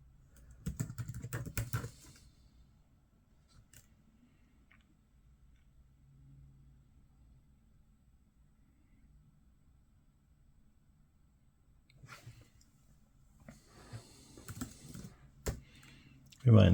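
Short bursts of keystrokes on an HP Stream 11 laptop keyboard as a terminal command is entered, quiet clicks at the start and again near the end with a long near-silent gap between.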